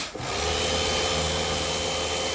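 Scrubbing dirt off the bodywork of a dirty Peugeot 206 GT by hand after the pressure washer has stopped, a steady broadband rubbing rasp that holds close and fairly loud for a couple of seconds without a break.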